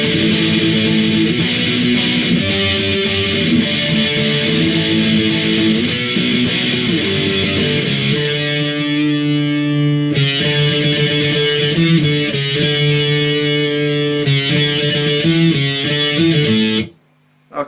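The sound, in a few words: heavy distorted electric guitar power chords, song intro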